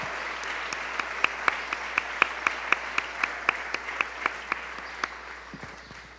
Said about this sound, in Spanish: Damos ofrenda de palmas al Señor